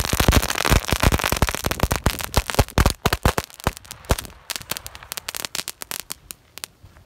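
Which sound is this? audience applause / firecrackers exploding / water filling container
firecrackers exploding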